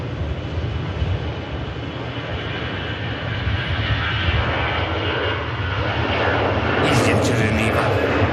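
A fixed-wing airliner lands at Manchester Airport, its engine roar steady and broadband throughout and swelling slightly toward the end, with a person talking over it.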